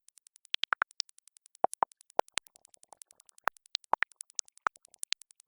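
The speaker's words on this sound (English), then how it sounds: "And now you can see the bandpass is jumping between values, except it's only going from the middle upwards." Glitchy synthesized water effect from a Serum patch, its bandpass filter jumping between values: rapid, steady stream of short plinks and droplet-like blips that hop in pitch, some brighter and louder pops scattered through, alone.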